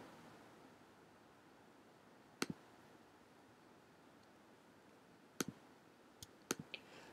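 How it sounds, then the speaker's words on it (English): A computer mouse clicks while files are shift-clicked in Scratch. Four or five crisp, close clicks stand alone over a faint hiss: one double click early, another mid-way, then a quick pair near the end. "So I'm shift clicking each of those for walk 2, 3, 4."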